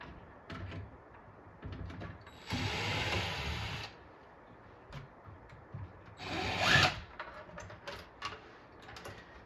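Screws driven by a power driver into a part of a Stargate arcade cabinet during restoration, two bursts of whirring with wooden knocks and handling between them, close and fairly loud.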